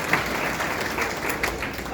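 Crowd clapping at a chief minister's political rally: a brief, even burst of many hands applauding, with a voice talking over it.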